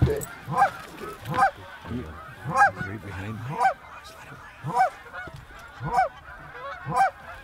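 Canada geese honk repeatedly in rhythmic bursts during a goose hunt, loud and fairly close, with each call spaced about a second apart over low outdoor background noise.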